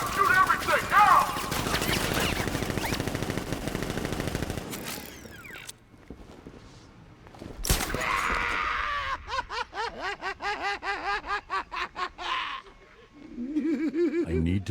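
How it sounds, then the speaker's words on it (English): Heavy sustained gunfire from the Batman: Arkham Knight video game roars for about five seconds, then breaks off into a sudden bang followed by voices and laughter-like chatter. "Open fire! Shoot everything! Now!"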